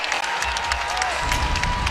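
Spectators at a women's NCAA basketball game between Robert Morris and Louisville applaud and cheer, a dense, loud wash of clapping that fills the whole arena without pause.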